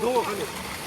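Water gushing at full flow from a pipe fed by a motor pump, a continuous rushing splash with a voice speaking briefly over the start.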